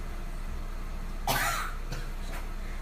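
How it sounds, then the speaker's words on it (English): A person gives one sharp, fairly loud cough followed by two fainter throaty bursts, set against a low steady background hum with no talking. "Watching her is making me cough."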